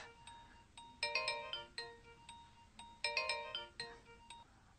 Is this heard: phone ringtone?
yes